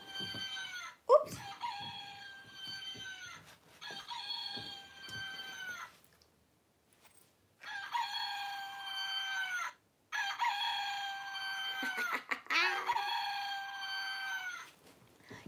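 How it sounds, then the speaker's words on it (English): Chickens cluck and crow in repeated bursts, with short quiet gaps between calls and a few sharp knocks nearby. "Yes, I love chickens."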